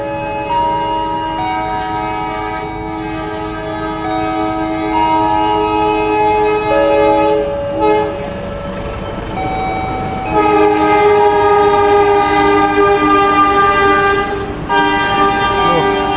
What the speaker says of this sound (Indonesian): baru saja melintas kereta api Argo Anjasmara di TRCC